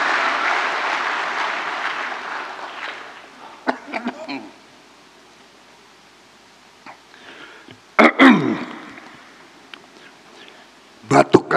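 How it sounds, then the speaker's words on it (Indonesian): Several short, harsh coughing bursts during a speech, loud and close, separated by pauses, with crowd noise fading early on. "Batuk karena semangat."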